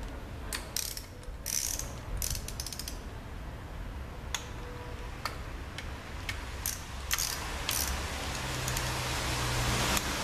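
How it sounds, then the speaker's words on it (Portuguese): Ratchet torque wrench clicking as it tightens the eight bolts on a 2007 Fiat Stilo 1.8 8v engine during a tappet and rocker arm job, with scattered sharp clicks and ticks over a quiet workshop background. "Todos os 8 parafusos receberam aí seus 8 newtons de torque."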